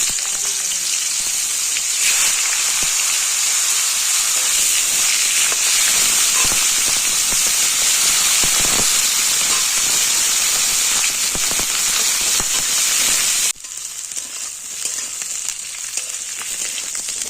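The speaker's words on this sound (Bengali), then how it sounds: "তেল গরম হয়ে গেছে, ফুলকপিগুলো ভেজে তুলব।" Cauliflower pieces frying in hot oil in a home kitchen, a loud continuous sizzle with crackling pops for most of the clip, dropping sharply to a quieter bubbling near the end.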